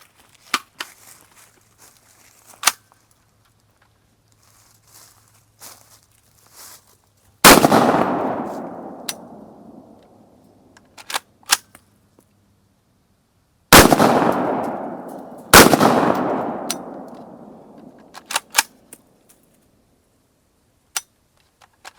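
An IWI Tavor rifle fitted with a Geissele trigger fires 77 grain rounds: three loud, sharp reports with long decaying echoes, two close together near the end, separated by quiet stretches of small mechanical clicks.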